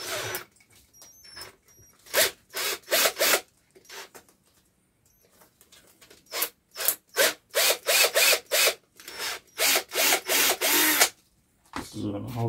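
Drilling a hole in wood for a screw, heard as a series of short, loud bursts of a power drill starting and stopping in an uneven rhythm, with quiet pauses between and close handling noise.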